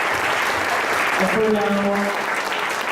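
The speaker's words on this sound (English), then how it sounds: "A round of applause to everyone, please." Conference attendees applaud their speakers at an urban redevelopment event for Tacloban City. The clapping sits under a voice that talks over it, with a brief tonal sound in the middle.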